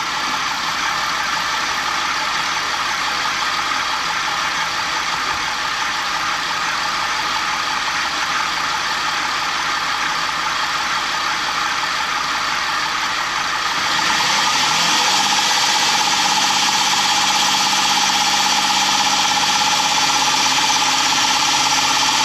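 A car engine hums loudly and steadily at raised revs of about 2,500 RPM during an alternator test, with a slight change in tone partway through and no talking.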